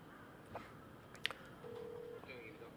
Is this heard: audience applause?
no